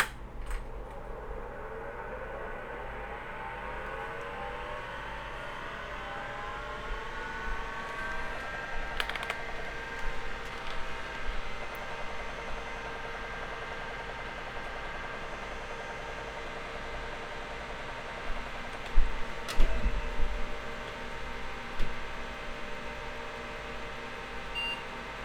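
Hard drives in an AT 286 clone PC spin up, with a rising whine that climbs over several seconds, a steady hum, a few beeps, and clicks and clunks from the drives testing.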